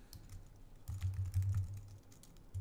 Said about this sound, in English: we would type in Zhongwen, hit enter, and it will add that word quickly to the list